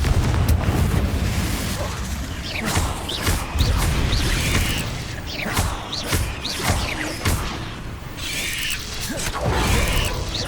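Confringo fire spell explosions in Hogwarts Legacy, repeated booming bursts and heavy thumps over a churning, rumbling combat mix, loud and busy from start to finish.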